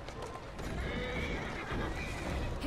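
A horse neighs loudly in the video game Assassin's Creed Syndicate, a continuous whinny with clip-clopping hooves and steady background game noise, no talk.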